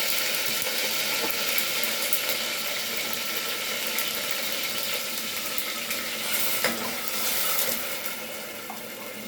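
Sofrito and recao sizzling with pork butt in a pot, a steady, close frying hiss with a watery crackle that holds evenly throughout.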